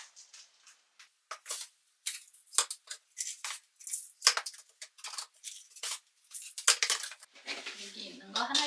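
Potting soil scooped and dropped into a plant pot for repotting kalanchoe, a series of soft gritty scrapes, rustles and crumbly pours, close and fairly quiet, irregular bursts across the whole stretch.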